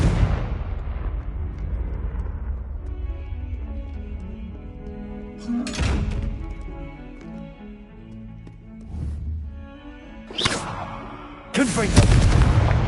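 Confringo fire spells blast in the Hogwarts Legacy video game, three or four heavy booming bursts spaced a few seconds apart, each with a rumbling tail, over a bed of game music.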